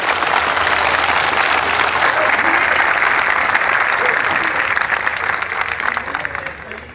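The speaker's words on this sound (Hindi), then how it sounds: "हमको एक बार जोरदार तालियां मोदी जी के लिए बजानी" Loud, dense applause from a large crowd at a political sit-in protest, sustained clapping throughout that thins slightly toward the end, no distinct voices.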